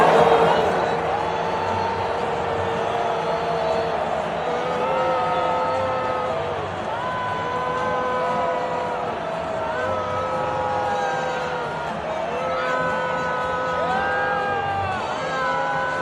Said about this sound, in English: I hear massive booing the moment Donald Trump pops on screen.